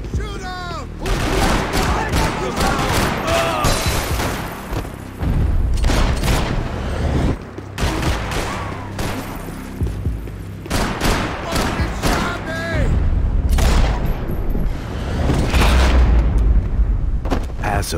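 A shootout in Max Payne 3, with dense, loud, near bursts of gunfire and heavy booms running almost continuously, punctuated by a few brief gaps and faint voices.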